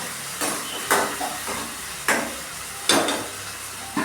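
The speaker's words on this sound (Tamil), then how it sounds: "அரைச்சி வச்ச தக்காளியை இந்த வெங்காயத்தோடு ஆட் பண்ணி பச்சை வாடை போகிற வரைக்கும் வதக்கியிருக்கேன்" Ground tomato sautéing with onion in a pan: a soft steady sizzle broken by several sharp spatula scrapes and stirs at irregular intervals, close and moderately loud.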